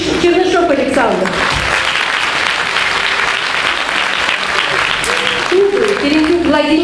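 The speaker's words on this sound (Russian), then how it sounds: "Под ваши оглушительные аплодисменты." An audience applauds a concert of wind and percussion students, with steady dense clapping throughout and a voice heard at the start and end of the applause.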